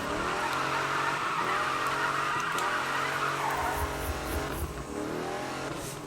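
In the Need for Speed 2015 racing game, a car drifts with a long, loud tyre squeal over a steady, revving engine, and the screech carries on without a break.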